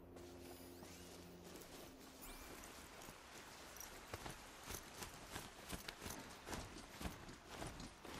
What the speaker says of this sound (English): Where's my horse? There we go. There's my Strider.